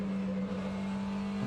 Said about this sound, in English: sound of the cars.